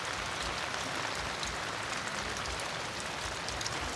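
Steady evening rain pours down evenly on a flooded small farm, a dense hiss of drops hitting surfaces nearby, constant and unbroken with no voices.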